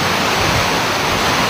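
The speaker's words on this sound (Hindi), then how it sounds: "सैंडी का साइड इफेक्ट, समंदर में ऊंची लहरें।" High sea waves driven by Hurricane Sandy crash continuously along the coast, a loud, unbroken roar of surf and churning water with no voices.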